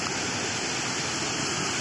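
Water rushes over a village dam in a loud, steady roar of broadband noise, close by and continuous, with no voices.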